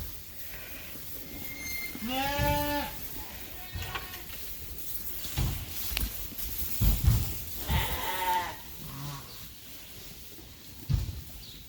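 Several sheep bleat nearby, including a ram, long wavering calls at irregular intervals, with scattered rustling and faint movement between them.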